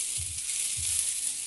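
Chopped onion sizzling with garlic in a pan on a switched-off stove, a steady close hiss with two soft low thumps, no talking.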